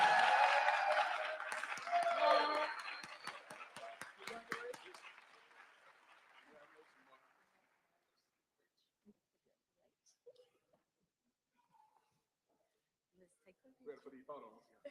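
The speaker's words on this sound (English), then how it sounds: "Let's give him a round of applause." An audience applauds a staff member in a church setting, loud sustained clapping that fades out over several seconds, followed by near silence with faint scattered sounds.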